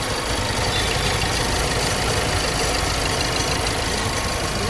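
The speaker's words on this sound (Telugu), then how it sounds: "మీరైతే ఇంజన్ సౌండ్ అయితే వినండి ఒకసారి." A pre-owned 2017 Ford EcoSport Titanium idles with a constant, even engine hum and light vibration, heard up close and alone without speech.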